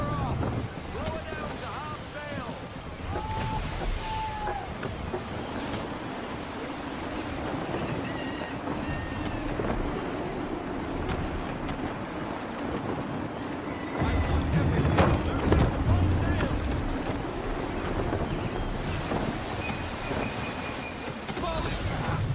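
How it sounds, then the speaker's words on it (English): Gusty wind blowing over a sailing ship at sea in Assassin's Creed III, a steady rushing roar mixed with wave wash that swells louder partway through, with brief voices now and then. "Wind looks to be shifting. Stay alert, Connor. Gusty winds can be difficult to manage."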